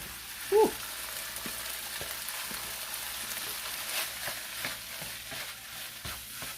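Cooked rice being stir-fried with egg in a hot pan: an even, rain-like frying hiss throughout, punctuated by light rhythmic ticks and scrapes from a turning utensil, with one louder knock early on and no talking.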